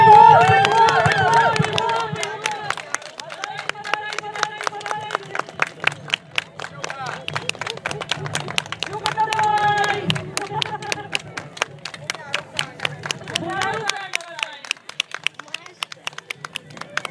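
Audience applause at a staged walk-out event, sharp overlapping claps forming a steady rhythmic stream over loud music, with a brief voice near the start; the clapping continues to the end.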